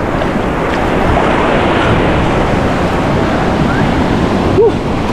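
Loud, steady roar of surf crashing close by, a continuous wash of breaking waves with wind buffeting the microphone throughout.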